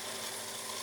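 A drill bit working through wood on a lathe while boring a bagpipe part, with a steady broadband grinding and whirring of tool and machinery, close and even throughout.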